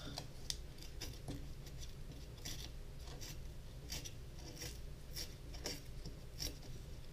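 Paper torn by hand along a Westcott ruler while making Halloween decorations, a steady rasping rip running continuously for several seconds with repeated bright scratchy bursts, close and fairly quiet, no talking.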